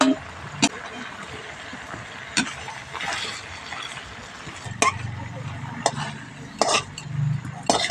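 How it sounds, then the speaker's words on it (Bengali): Ash gourd pieces strained out of reduced sugar syrup in a pan, with sharp metallic clinks of a slotted spoon against the pan at irregular intervals and soft bubbling beneath, and a voice talking throughout. "চাল কুমড়োটা ছেঁকে তুলে নিচ্ছি।"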